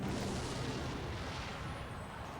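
A rocket spell slams into a tower in the Clash Royale video game, a dense, booming blast that rumbles on steadily at moderate level without a clear separate impact.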